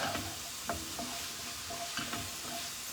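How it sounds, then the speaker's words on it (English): Ingredients for shepherd's pie sautéing in a pan, a steady close sizzle broken by several light scrapes and stirs of a utensil. "just going to saute this up"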